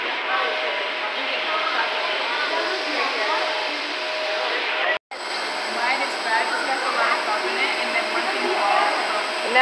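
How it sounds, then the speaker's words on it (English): At a Hershey chocolate factory, a machine coats bars in milk chocolate with a steady broadband whir and hiss that runs the whole clip, broken by one brief dropout midway. "Now they go into this machine and it all gets covered with milk chocolate."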